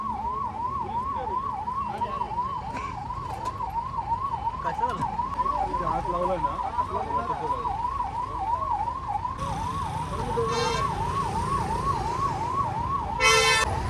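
An ambulance siren wails continuously on a road at an accident scene, a steady rising-and-falling electronic tone held at close range over traffic rumble, with brief beeps toward the end.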